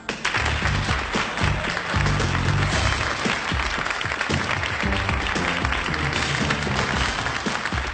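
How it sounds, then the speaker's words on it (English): A crowd applauds steadily for models on a catwalk, many hands clapping in a dense, sustained patter that fills the room. "a nice round of applause for the boys and girls on the catwalk today"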